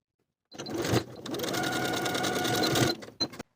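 A sewing machine runs in one steady burst lasting over two seconds, edge stitching a folded denim jacket pocket, with a few short start-and-stop stitches before and after, close and clear.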